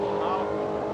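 A red Holden Commodore drag car roars steadily at an airstrip drag meet with no track prep, its engine loud and close for the whole second with a voice faintly underneath.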